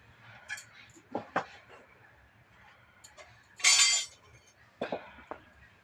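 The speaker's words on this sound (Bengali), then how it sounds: "প্রথমে আমি সিমগুলোকে কেটে নেবো" Flat beans are cut with a knife at home, producing scattered close taps and clinks with a short scraping burst in the middle and quiet gaps between strokes.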